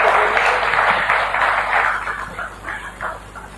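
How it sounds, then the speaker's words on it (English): Audience applause at a horticulture investment forum, sustained clapping from a crowd indoors that slowly thins and fades toward the end. "So I can give you a round of applause."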